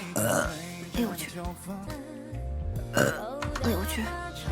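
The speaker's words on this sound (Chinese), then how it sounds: "哎呦，打个嗝。" A burp from a streamer, set among lively talk and exclamations, with voices and other sounds overlapping throughout.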